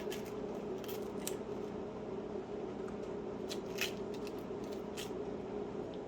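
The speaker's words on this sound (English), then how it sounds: "I set the onion down and I start slicing as far as I can." An onion, peeled with its green end cut off, sliced with a knife on a board for a bean salad; steady close cutting and rustling continues throughout over a constant background hum, with no talking.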